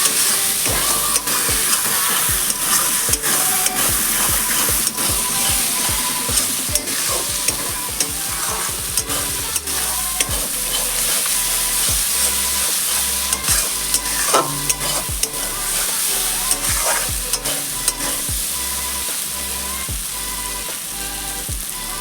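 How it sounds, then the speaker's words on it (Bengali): Spice paste for jackfruit prawn curry sizzles in hot oil, with a spatula stirring and scraping the pan in quick, repeated strokes throughout. "দেখুন আমার কষানো হয়ে গেছে। কি সুন্দর তেল ছাড়তে শুরু করে দিয়েছে চারিদিক থেকে।"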